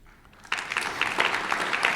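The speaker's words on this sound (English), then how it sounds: "Let's give them another round of applause, please." A crowd bursts into applause at the 2023 American Quarter Horse Association convention membership meeting, starting abruptly after a quiet moment and continuing as a full, even clatter of many hands.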